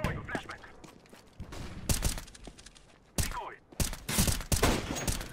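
Rapid sniper rifle gunshots from the video game CS:GO ring out as several sharp, loud cracks in close succession amid game noise, with a player's voice talking over parts of it.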